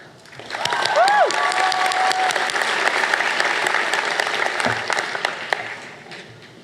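A room full of people applauding steadily for several seconds at a school prize giving, the clapping swelling then fading, with a few whistles near the start.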